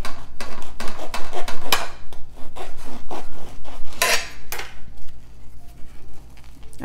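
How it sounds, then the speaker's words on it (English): A knife saws through the side of a sub roll for a chicken banh mi, making a loud, close run of rasping, crackly strokes against the crust in quick rhythmic bursts. "slice it open on the side"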